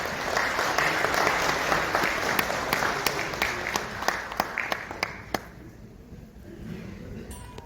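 Dense applause from an audience at an international academic forum in a Seoul hotel, loud and continuous at first, then thinning into a few scattered claps before fading out.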